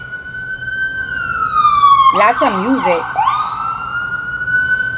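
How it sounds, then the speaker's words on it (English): Ambulance siren wailing loudly as it passes on the street outside, a sustained tone that sweeps down, then rises again, with a person speaking briefly over it and music playing underneath. "When this ambulance is done, I'll continue."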